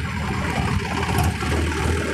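A Massey Ferguson 7250 tractor engine runs with a steady, close, loud low rumble and no pause, while the driver shifts into second gear. No one speaks.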